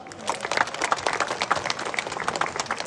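Audience applause at an outdoor temple concert, a steady crowd of many hands clapping at close range throughout, dense and even, with no voices over it.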